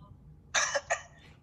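Two short, sharp coughs come close together, fairly near and clear, against quiet background hiss.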